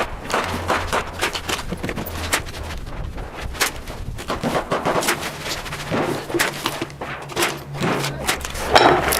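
Rimfire rifle firing a string of ten rounds at a shooting range, sharp repeated cracks spread irregularly across the clip amid wind noise and background activity.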